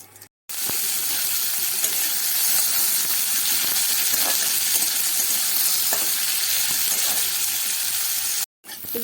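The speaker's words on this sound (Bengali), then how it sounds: "এবার আমি এগুলো লঙ্কার সঙ্গে ভেজে নেব।" Chopped onion, garlic and dried chillies frying in mustard oil with a pinch of nigella seeds, a loud, steady hiss and crackle of sizzling that starts abruptly and cuts off near the end.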